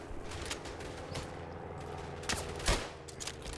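Gunfire in the World War I shooter Verdun, a dense fusillade of rifle and machine-gun shots that crackles continuously with a few sharper, louder reports near the end.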